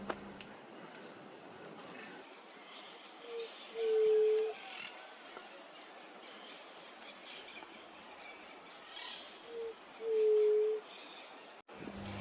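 Two drawn-out hooting bird calls, one early and one late, ring out over a quiet wooded campground hush in Chaco National Park, with faint background hiss.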